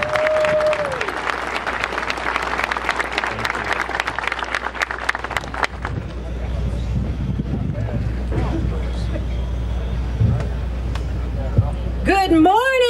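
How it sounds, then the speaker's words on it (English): Applause from an outdoor crowd at an opening ceremony for the Fury 325 roller coaster, loud and continuous clapping for the first half, then fading into wind and ambient noise with a voice briefly heard. "Let's give them a round of applause."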